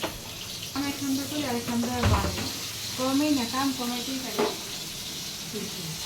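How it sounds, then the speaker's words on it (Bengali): Baila fish frying in a pan sizzles steadily beneath continuous talk, with occasional clinks of a utensil against the pan in a home kitchen. "এই যে বাইলা মাছ ভেজে নিতেছে আর এদিক দিয়ে কচু সিদ্ধ করে নিতেছে"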